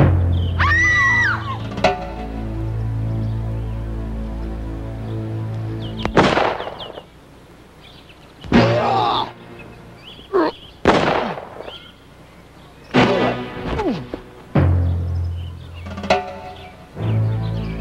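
Gunshots from the 1994 laserdisc game Fast Draw Showdown, several sharp loud bangs spaced irregularly, mixed with brief western-style voice lines and a low music bed between them.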